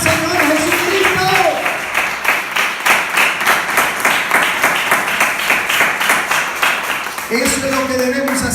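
A church congregation claps in a steady rhythm during worship, loud, even beats continuing throughout, with a sung or spoken voice over the clapping at the start and end.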